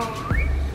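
Whistled notes from a music video: a sustained tone that slides up and holds, loud and alone, with no voices over it.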